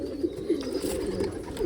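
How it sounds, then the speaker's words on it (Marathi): Low, throaty cooing from a sick pigeon with a wasting illness rolls on in a few soft, wavering pulses, close and unbroken by speech. "एकदम आजारी कबूतर आहे"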